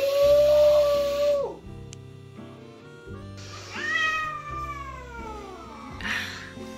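A cat yowls and meows loudly and close, with a long drawn-out cry followed by several shorter, falling complaints, clearly unhappy, with no talking over it.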